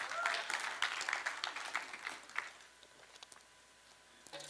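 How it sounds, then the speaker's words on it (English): A church congregation applauds during a sermon, with loud dense clapping at first that thins out and fades to near quiet, a few scattered claps returning at the end. "Let's go ahead and put your hands together"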